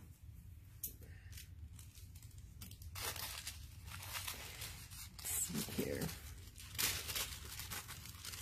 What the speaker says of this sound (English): So what I'm going to do here is cut around the image.